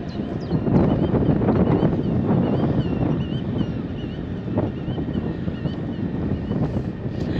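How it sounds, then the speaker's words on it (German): Strong wind buffets the microphone aboard a twin-engine boat turning into a harbour entrance against the wind, a steady low roar with faint water and engine rumble and no talking. "Pünktlich zum Anlegen haben wir natürlich Wind"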